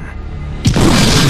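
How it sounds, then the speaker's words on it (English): A sudden loud explosion booms out in a stop-motion animated Transformers film after a quiet stretch, then rumbles on in a dense, sustained roar. "You know how much Bumblebee likes explosions"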